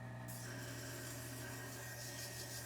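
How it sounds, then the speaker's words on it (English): A knife bevel is held flat and ground on a sharpening stone to thin it, giving a steady, close rasping scrape that runs without pause. "So I put that bevel pretty flat on the stone to start thinning that bevel."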